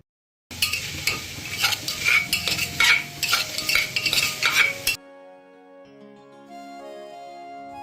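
Stirring sounds from a pan as ginger is mixed into oil-free daliya khichdi with potatoes: scraping, clinking utensil strokes and a soft sizzle for about four seconds, then a quiet tonal musical passage.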